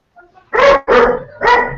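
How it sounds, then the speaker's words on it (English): A dog barks three times in quick succession, loud and close, each bark short and sharp with brief gaps between them, against otherwise quiet surroundings. "it's the dog screwing up here."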